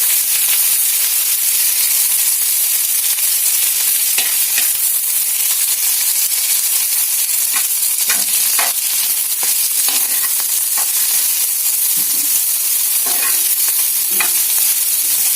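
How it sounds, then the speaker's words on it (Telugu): Ingredients stirred and dry-roasted together in a pan, a loud, constant hiss and sizzle with intermittent scraping and clinking strokes of a spoon against the pan, close up and without talk. "ఇవన్నీ కూడా బాగా కలుపుకోండి"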